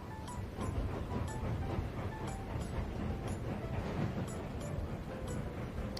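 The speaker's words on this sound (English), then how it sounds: "this engine makes a strange little noise as well" Train engine noise from the Tiny Rails video game: a steady rumbling, chugging drone with faint rhythmic clicks, continuous and fairly loud throughout.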